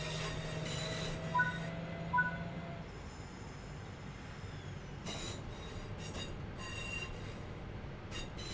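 A train passing inside a video game, with a steady rumbling wagon roll, faint wheel squeal and a few brief clanks, moderately loud and continuous with no talk over it.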